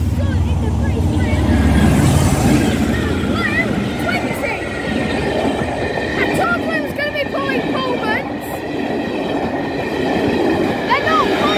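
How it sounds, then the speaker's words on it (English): A heavy diesel engine roars steadily as Class 47 and Class 20 locomotives pass close by at Malton, a deep rumble with clattering wheels and people talking over it. "listen to that engine roar. That's amazing. That engine roars."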